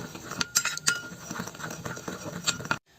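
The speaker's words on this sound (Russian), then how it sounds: "Все это сейчас перемешаю." Potatoes stirred with seasoning in a bowl, close, rapid clinks and scrapes of a utensil against the dish in an irregular rhythm before a brief stop at the end.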